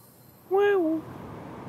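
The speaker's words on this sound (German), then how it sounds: "Da ist ein Vogel wieder." A single short bird call in the snowy video game Never Alone, a clear tonal cry with a slightly falling pitch, heard alone over faint wind.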